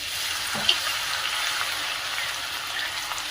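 Garlic frying in hot oil in a home kitchen, alongside fennel seeds and cloves, a steady soft sizzle with a faint crackle and a single small pop near the start.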